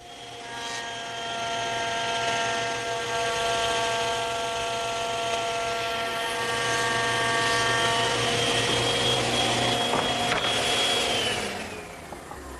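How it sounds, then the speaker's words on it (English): A thickness planer feeding glued-up wood panels for a Shaker woodbox, a loud, steady whining roar with strong tonal harmonics that holds for about eleven seconds before spinning down near the end. "I'm going to show you a shortcut using the thickness planer."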